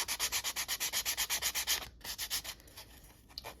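Sandpaper rubs along the rough cut edges of a chipboard charm in quick, even back-and-forth strokes, close and fairly quiet, pausing briefly midway before a few slower rubs.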